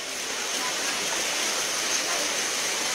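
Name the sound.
flood water flowing in a street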